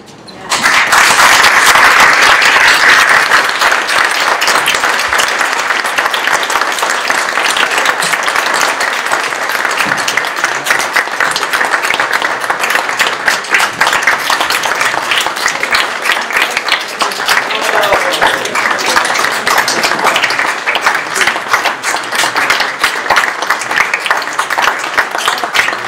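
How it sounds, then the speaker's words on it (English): Sustained audience applause following a talk at a soil and climate summit, a thick continuous roar of many hands clapping that holds strong throughout, slightly louder at the start. "Thank you for the wonderful applause"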